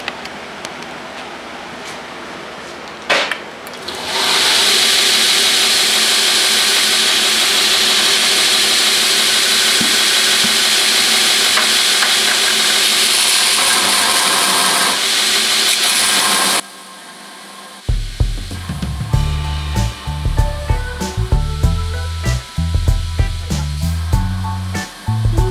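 An electric grinder runs steadily as a broken insert from a 45-degree facemill is ground off, a loud sustained whine lasting about twelve seconds before cutting out, followed by clattering, knocking handling noises.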